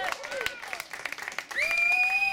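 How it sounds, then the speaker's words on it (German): A crowd applauding at a climate protest rally in Aachen, a brief burst of scattered clapping heard from some distance, followed by a steady tone. "den Applaus kann man vielleicht auch ein bisschen in Hambi hören"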